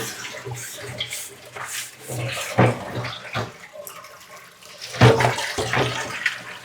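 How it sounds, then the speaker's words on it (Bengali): Water splashing and running while an old, long-stored cooking pot is rinsed and scrubbed clean, with intermittent sloshes and a few louder splashes close by. "পাতিলটা তো দীর্ঘদিন রাখা এজন্য একটু ভালো করে ধুয়ে নিচ্ছে গন্ধ না বেরোয়"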